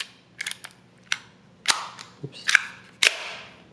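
A magazine snapping back into a Worx semi-auto screwdriver, giving a string of short, sharp plastic clicks and clacks spaced irregularly over a few seconds, close and fairly quiet.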